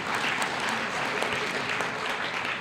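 An audience at an Alcoholics Anonymous speaker meeting gives steady, dense applause that fills the room at an even level for the whole stretch, with no voices standing out.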